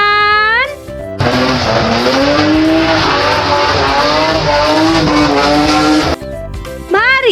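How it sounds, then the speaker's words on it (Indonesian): A toy race car sound effect: a loud, rising and falling electronic engine rev with screeching skid tones runs for several seconds. Brief voices come just before and just after it. "Ada mobil balap teman-teman."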